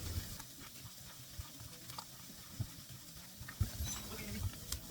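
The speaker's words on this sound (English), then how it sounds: "Just kind of squish it in between your fingers and mix it all the way." Ground meat for meatballs squished and mixed by a gloved hand, giving soft, wet squelching and rustling that runs steadily and quietly at close range.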